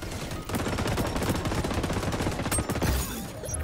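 Rapid bursts of automatic gunfire with minigun fire in the XDefiant shooter game, loud and continuous, dense rattling volleys with a few sharp higher clicks near the end.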